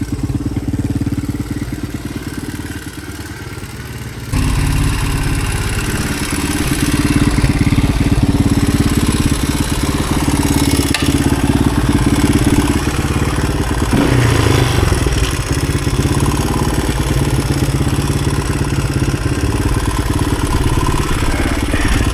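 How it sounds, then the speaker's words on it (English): A 1983 Honda XR200R motorcycle engine idles loudly and steadily nearby, its rumble carrying a light mechanical ticking valve chatter throughout. "A little bit of a chatter, but that's I think just the valve."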